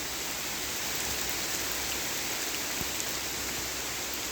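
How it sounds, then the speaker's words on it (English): Rain falling in the woods, a steady, even hiss of drops across the canopy and ground, constant and moderately soft with no voices. "Just listen to that rain."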